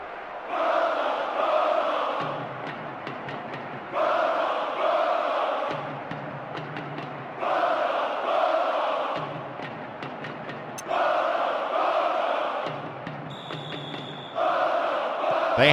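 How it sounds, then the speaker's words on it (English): Stadium crowd at a Barcelona versus Hapoel Tel Aviv football match applauding a goal, a broad steady roar of clapping and cheering that rises and eases in repeated waves, loud and diffuse, without speech. "the goal richly applauded by all corners of the stadium"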